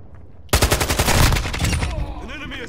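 Rapid automatic gunfire in Call of Duty: Modern Warfare bursts in suddenly and loud as a dense rattling stream of shots, then thins into scattered quieter pops and trailing echoes.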